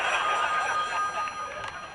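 A telephone rings at the Possum Lodge, a steady electronic trill of moderate loudness that carries on continuously and fades slightly toward the end.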